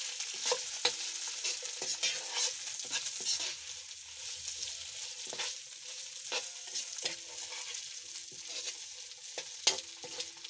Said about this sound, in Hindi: अब हम इसमें भी शामिल कर देते हैं। तो अच्छी तरह मिक्स करते हैं।